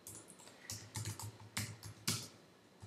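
Quick bursts of clicking keystrokes on a computer keyboard while entering a copyright page in InDesign, irregular clusters of taps, close and fairly quiet in a still room.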